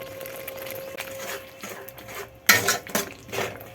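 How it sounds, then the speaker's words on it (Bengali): Chopped tomatoes go into a pan of spices frying in oil for Katla fish kalia, with a sharp clatter of utensil against pan midway followed by a few more scraping, stirring knocks. "এর মধ্যে দিয়ে দেবো কেটে রাখা টমেটো কুচি"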